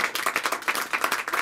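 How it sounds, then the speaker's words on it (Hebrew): An audience claps after a theatre performance. The applause is moderate and steady, with irregular hand claps that rise and fall across a short stretch. "אפשר למחוא כפיים"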